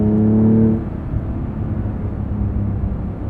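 Twin-turbo 3-liter flat-six of a 2023 Porsche 911 Carrera T with manual gearbox, a loud close engine drone with a strong rising harmonic tone in the first moment that then drops away to a steadier lower rumble of cabin and road noise.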